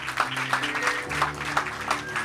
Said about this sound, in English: you have to clap well